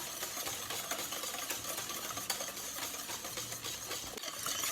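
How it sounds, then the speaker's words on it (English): Whisking custard for floating islands, a fast continuous scraping and ticking of a whisk against a bowl, steady and close throughout with no talking. "That means that we're gonna continue whisking."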